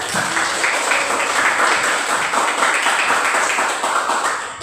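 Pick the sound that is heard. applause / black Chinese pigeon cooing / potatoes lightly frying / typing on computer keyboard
applause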